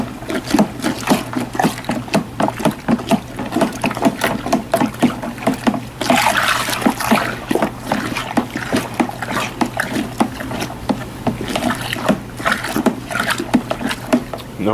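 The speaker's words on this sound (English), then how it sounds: "Just aerate my wort here." Beer wort being aerated, sloshing and splashing rhythmically in a vessel with repeated close watery surges and a steady low hum beneath.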